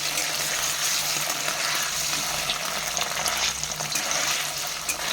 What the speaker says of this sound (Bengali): পনিরগুলো হালকা হালকা ভেজে নেওয়া হবে।